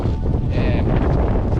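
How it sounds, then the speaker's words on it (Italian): Gusty wind buffets the microphone outdoors on the Via Francigena walking route near Radicofani. It makes a constant low rumbling roar with flutter and no clear speech. "il vento ci sta sconvolgendo"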